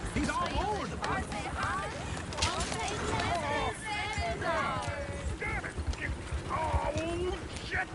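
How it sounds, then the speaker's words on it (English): Horses gallop in Red Dead Redemption, a busy run of rapid hoof clip-clops with a brief whinny, while character voices talk over the hoofbeats. "Oh, shit, the horses! Damn horses!"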